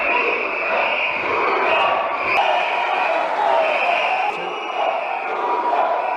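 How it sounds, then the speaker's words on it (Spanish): Opposition legislators boo and blow whistles during President Arce's address in Bolivia's assembly while government supporters chant, a dense, loud crowd din with sustained shrill whistle tones and rising, wavering shouts throughout. "Legisladores opositores intentaron interrumpir el discurso de Arce con abucheos y silbatos, mientras que simpatizantes del gobierno coreaban consignas de apoyo al presidente."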